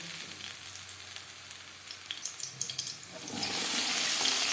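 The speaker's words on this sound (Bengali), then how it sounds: "পরিমাণ মতো তেল তেল বেশ ভালো করে গরম করে নেব" Oil heating in a pan before frying brinjal slices for begun bhaja, a steady close hiss with faint crackling pops that swells louder toward the end, no talking.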